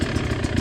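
A motorcycle engine idles at low throttle, a close, steady, rough low rumble with a slight pulsing beat over a brief moment.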